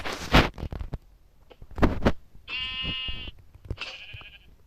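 Sheep bleat in a blocky survival video game, two tonal, wavering cries with a sharp clicking and thumping sounds of game action between them, fairly close and clear.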